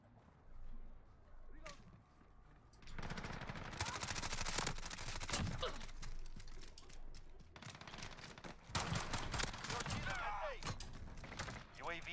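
Bursts of PS4 shooter gunfire crackle through the scene: a lone early shot, then long rattling automatic volleys and rapid clusters of shots at mid distance, with players talking intermittently underneath.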